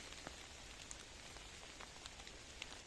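Rain falls at night on a wild camping site, a soft steady patter with scattered sharper drops ticking on nearby surfaces, quiet and unbroken by voices.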